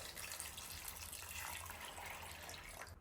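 Water is poured into a container for homemade lemonade, a steady, fairly quiet stream of running water that fades out at the end, with no voices.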